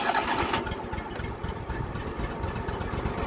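A vehicle engine, just started with the choke on, runs at a fast uneven idle with a rapid chugging pulse, close and fairly loud, with no talking.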